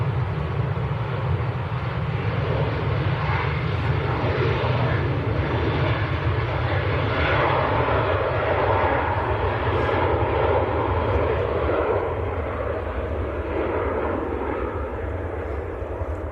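A KLM airliner bound for Amsterdam rolls for takeoff at Manchester Airport, its jet engines roaring loud and steady for the whole stretch, slowly easing toward the end, with no talking.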